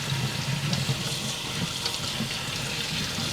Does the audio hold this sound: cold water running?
yes